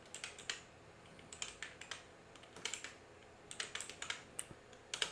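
Typing on a computer keyboard to enter a web address: quick, light clicky keystrokes in short uneven runs with brief pauses, close and fairly quiet, no voices.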